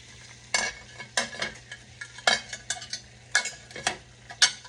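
Chicken necks cooking in a covered pot, with a series of sharp scraping and clattering bursts at irregular intervals over a low steady hum.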